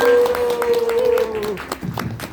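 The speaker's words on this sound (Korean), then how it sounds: "큰 박수 부탁드리겠습니다" An audience at a business presentation meeting claps to welcome a speaker to the front, scattered hand claps rising under a sustained tonal sound and voices, growing more distinct toward the end.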